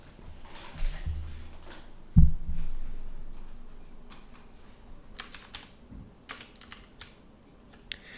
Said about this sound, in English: And then we'll hit the alt enter.